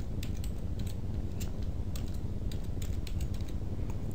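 Keys clatter on a computer keyboard in a quick, uneven run of close, light taps over a low steady background hum.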